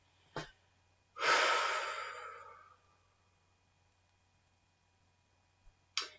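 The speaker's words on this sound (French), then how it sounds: "Et à l'expire, vous soufflez, vous relâchez." During a sophrology relaxation session, a person releases a long, audible exhaling breath, preceded by a short intake and followed by a faint breath, quiet and close in an otherwise silent room.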